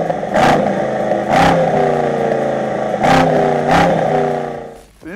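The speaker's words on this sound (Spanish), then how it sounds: "Este V8, con soportes activos, es actualmente, sin ningún pero, uno de los mejores motores de combustión" A deep V8 engine of a 2023 Mercedes-AMG SL 63 revs close by, several sharp throttle blips rising and falling over a rumbling idle.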